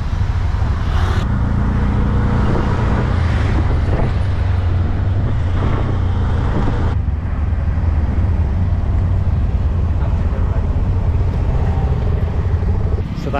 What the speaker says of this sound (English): Off we go in a tuk-tuk.